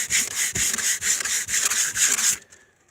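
Gator 220 grit sandpaper rubbed over a truck's painted body by hand, rhythmic back-and-forth scraping strokes, about two a second, close and loud, stopping abruptly near the end.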